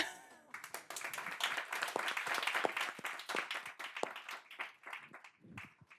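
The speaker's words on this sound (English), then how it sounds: "A huge round of applause to you." Audience applause at a Foster + Partners architecture talk in Hong Kong's Central District: a fairly quiet, close round of clapping that swells, holds for several seconds, then thins out into scattered claps.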